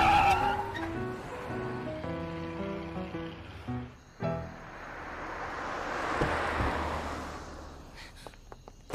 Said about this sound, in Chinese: 刹车！